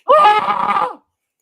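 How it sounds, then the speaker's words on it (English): A single scream from a played radio-drama recording, about one second long, loud and close, then cut off abruptly into silence. "Halfway through the scream."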